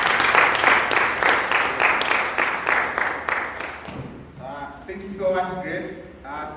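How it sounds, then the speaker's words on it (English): Audience at a youth health services presentation applauding with a burst of dense clapping that lasts a few seconds and then fades, followed by a speaker's voice as the noise dies down. "A round of applause for her."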